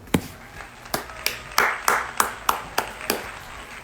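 An applause sound effect made of about a dozen sharp, separate claps in an even rhythm, loud and close, with short ringing tails and nothing else underneath.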